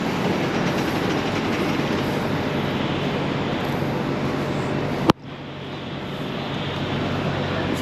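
Close, steady roar of a first-class train rolling past the platform at Makkasan station in Bangkok, rumbling with track clatter and a sharp knock near the end as the sound abruptly thins.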